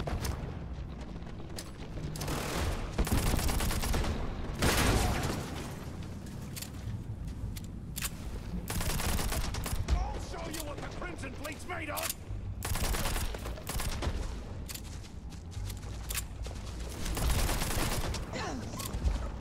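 Rapid-fire gun shooting in the Starfield video game: long bursts of dense, loud automatic gunfire rattle almost continuously, with brief pauses between volleys and a few heavier booms mixed in.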